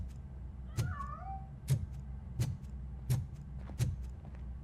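A cat in the RoboCop: Rogue City video game gives a short rising-and-falling meow over a low ambient hum, while sharp, evenly spaced clanking footsteps or impacts repeat roughly every second; no one speaks.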